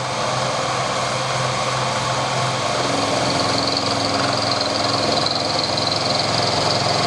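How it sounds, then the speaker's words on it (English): Dry carbide milling cutter machining a stainless steel bar on a machine running at 1500 rpm, a continuous loud whirring, grinding drone that stays steady throughout with a brighter high edge coming in partway. "Normally I would use cutting water when I'm doing machining stainless, but for the purpose of the video I'll just put it dry."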